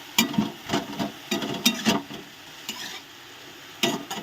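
Jute leaves being stirred in a pan with turmeric and salt, heard as repeated scraping and rustling strokes of a spatula against the pan with a soft sizzle underneath, close and uneven in rhythm.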